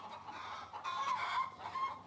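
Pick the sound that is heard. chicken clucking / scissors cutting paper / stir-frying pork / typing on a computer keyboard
chicken clucking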